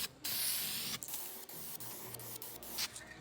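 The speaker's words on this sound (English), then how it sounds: "spray another coat of clear" Spray gun laying a coat of gloss clear onto the barrel of a polished aluminum alloy wheel, a steady close hiss with slight breaks as the passes sweep across, alone with no voices.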